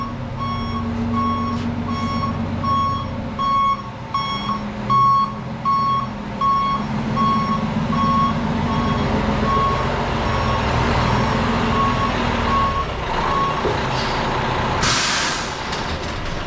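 An International truck backs in with a steady, evenly spaced reversing beep over a low idling engine, ending with a loud hiss of air brakes near the end.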